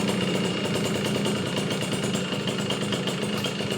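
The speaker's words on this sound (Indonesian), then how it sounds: "ini mesin udah nyala" A restored Yamaha V75 motorcycle engine idles steadily up close, a constant throbbing rumble with no talking.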